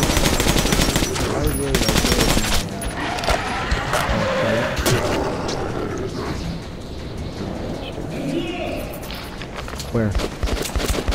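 Rapid automatic gunfire and scattered shots ring out during a firefight in the post-apocalyptic shooter Metro 2033. The bursts are loud and near and continue throughout, with brief speech over the shooting.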